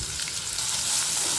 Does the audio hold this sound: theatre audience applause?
no